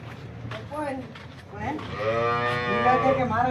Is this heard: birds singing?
no